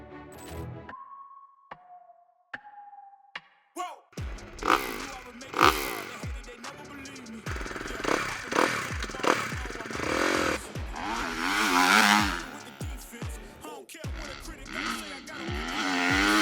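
A Suzuki motorcycle fitted with an Akrapovič exhaust line runs on a track, its engine note rising and falling through repeated gear changes at high revs, loud and close after a few seconds of quieter tones.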